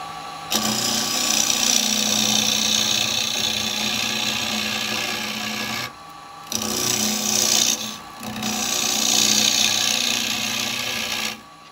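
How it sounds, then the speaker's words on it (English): A carbide square tool scrapes wet wood on a lathe in a steady, loud, close rasping hiss. It breaks off briefly twice and resumes, with no voices. "That's because we are just scraping okay when you're cutting there being more ribbon"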